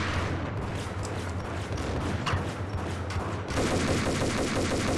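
Ingram submachine gun spraying in the shooter Max Payne: a loud, continuous stream of rapid automatic fire with a few heavier bursts mixed in, growing denser toward the end, with no talking.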